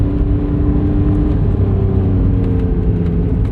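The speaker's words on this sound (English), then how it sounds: "Throttle response is taking me a little bit of time to get used to just to nail these heel-toe downshifts." Porsche 718 Cayman GTS 4.0 engine during heel-toe downshifts, a loud, steady in-cabin engine rumble and whir with slight rises in pitch, running continuously throughout.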